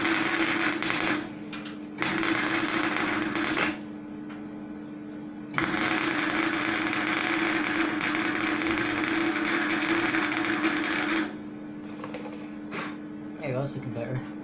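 Welding on an electric kit car build: a loud, buzzing electric arc crackles in long steady bursts separated by short pauses, close to the microphone, with light handling noise between runs.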